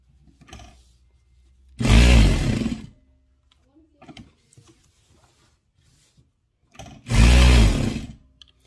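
A DDL-8700-H industrial sewing machine stitches through ten layers of fabric in two loud, close bursts of steady whirring and rattling a few seconds apart, with soft handling noises and brief quiet between them.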